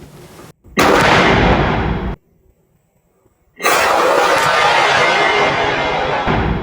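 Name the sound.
gunshot while hunting wild boar in Florida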